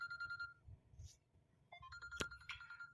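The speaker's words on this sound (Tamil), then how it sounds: "இவர் வேறு ஃபோன் பண்ணுறாப்புல, நம்ம ஹாஜி பாய்." A phone ringtone chimes for an incoming call, a repeating electronic melody that plays clearly, breaks off briefly, then returns louder with a sharp click in the middle, over faint background hum.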